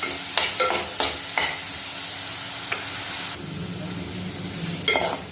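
A paste of onion and coconut is roasted and stirred in a hot pan for a spicy curry. It gives a steady close sizzle, and a few spatula scrapes and clinks stand out early and near the end. No voices are heard.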